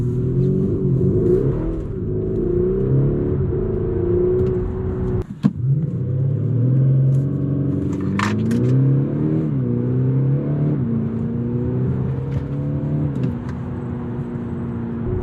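A 2022 Audi SQ5 Vorsprung V6 SUV in sport mode accelerates hard, its engine note climbing steadily through the gears with brief dips at each shift, a loud, continuous cabin-heard rumble and whir with no talking.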